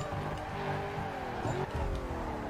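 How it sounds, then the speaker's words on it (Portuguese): A drifting car slides with a sustained engine roar and a brief tire squeal near the middle, loud and close, with no pause in the noise. "Olha que drift plástico"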